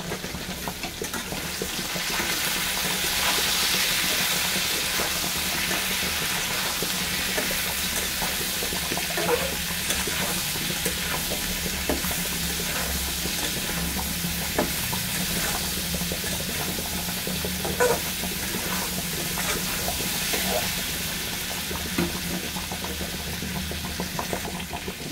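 Food frying with salt in a pan, a constant dense sizzle that holds steady and close throughout, with faint scattered clicks and no talking.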